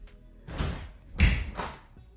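A household door swung shut, giving a couple of dull thuds and a heavier slam in the middle, fairly close and low, with no talking.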